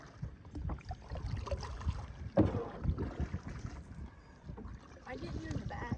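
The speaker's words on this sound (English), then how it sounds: "so I'm letting Sam paddle for a while" Kayak paddling on windy water, soft irregular splashes and dips of the paddle with wind buffeting, faint and uneven, with people talking quietly.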